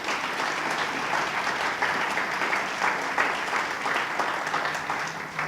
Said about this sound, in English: give a round of applause for all the volunteers